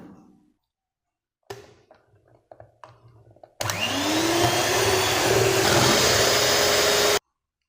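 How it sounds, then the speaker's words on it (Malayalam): A kitchen mixer beats whipping cream with ground jackfruit for homemade ice cream. After a few light knocks and clinks it starts with a loud, steady whirring drone that holds for several seconds, then cuts off abruptly. "വിപ്പിംഗ് ക്രീമിൽ ഐസ്ക്രീം ഉണ്ടാക്കുമ്പോൾ നമുക്ക് പെർഫെക്റ്റ് ആയിട്ട് കിട്ടും നമുക്കിതൊന്ന് ബീറ്റ് ചെയ്തെടുക്കാം ഇതിലേക്ക് അരച്ച ചക്ക കൂടി ചേർക്കാം"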